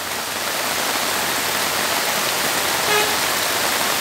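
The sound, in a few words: heavy rain falling in the street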